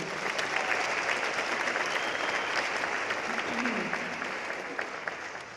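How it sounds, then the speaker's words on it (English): An audience at a high school chamber singers' concert gives a sustained round of applause, many hands clapping evenly with faint voices mixed in, tapering slightly at the end. "Everybody give them a round of applause for just doing it."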